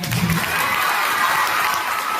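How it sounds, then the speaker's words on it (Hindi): An audience at a coaching institute's anniversary celebration applauds loudly in a steady, dense wash of clapping with some cheering mixed in, continuing without a break. "सर के लिए एक बार जोरदार ताली बजाइए"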